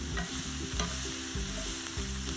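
Brussels sprouts sizzle and crackle steadily in a hot cast iron skillet, a close, continuous frying hiss with soft stirring scrapes and no voices.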